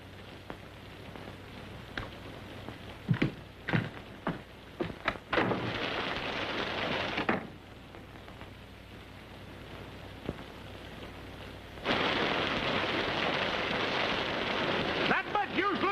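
A rainstorm with thunder: heavy rain hisses in long loud bursts, broken by sharp cracks and deep rumbles, with quieter stretches of drizzle between the downpours.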